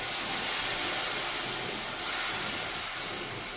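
Oban Scotch whisky hitting a hot pan with broth bits, a steady broad steamy hiss that swells briefly midway, close and continuous with no talk.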